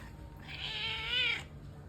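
A single drawn-out cat meow, rising and then trailing off, over a quiet background.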